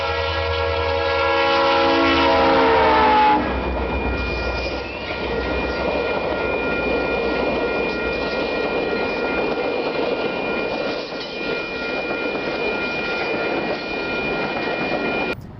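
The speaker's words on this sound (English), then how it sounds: "see the unique locomotive in action as it passed through Oregon" A Union Pacific Centennial diesel locomotive, UP 6936, sounds a loud chord horn for a few seconds in Oregon, then rumbles past with steady engine drone and rolling wheel noise.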